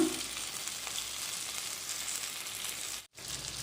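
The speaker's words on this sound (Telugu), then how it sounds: "చూడండి చేప అనేది బాగా కుక్ అయింది బాగా ఫ్రై అయ్యేయండి" Small fish fry in a pan, a steady, moderately quiet sizzle and crackle that drops out briefly near the end.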